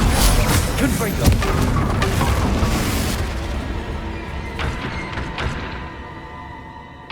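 A Confringo fire spell bursts in Hogwarts Legacy, a loud booming blast with crackling debris that stays dense and rumbling, then slowly fades over several seconds.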